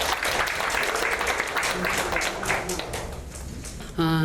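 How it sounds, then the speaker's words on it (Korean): A seated audience at a Seoul policy forum claps to welcome the committee chairperson's congratulatory speech, dense applause fading gradually before a voice begins speaking at the very end. "큰 박수 부탁드립니다"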